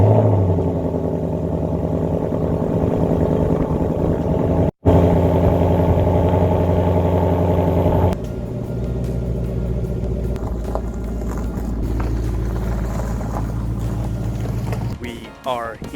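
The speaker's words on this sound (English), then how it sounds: "let's back the car up and head over to the shop" Engine of a 2018 Ford Mustang rumbling steadily as the car backs up, a continuous low drone that dips briefly and shifts tone partway through, close and fairly loud.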